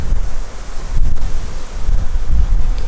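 Strong gusty wind roars and buffets the microphone, a low rumbling rush with no voices.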